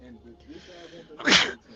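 A single loud, sharp sneeze bursts out near the end, following someone talking casually in a group conversation.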